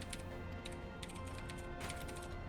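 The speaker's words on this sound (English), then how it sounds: "Type, type, type, he goes. So much typing." Quiet, steady typing on a computer keyboard with rapid light key clicks over a constant low background hum, no voices.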